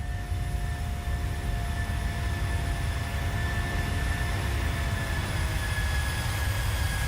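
Steady cockpit drone of a Boeing 737-700 in flight in Microsoft Flight Simulator 2020, an even, continuous engine and air roar with faint high tones, unchanging throughout and with no talk.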